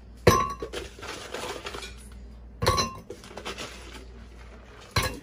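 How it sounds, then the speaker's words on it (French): Ice cubes dropped into a blender jug for passion fruit juice with milk, three sharp clattering clinks of ice on the container separated by pauses, close and fairly loud. "je vais mettre la glace dans le blender"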